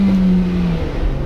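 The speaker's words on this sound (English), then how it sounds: "This engine is really quick to rev." A 2017 Nissan Sentra NISMO engine roars at high revs in a brief, steady, loud burst, close up, with its pitch shifting slightly.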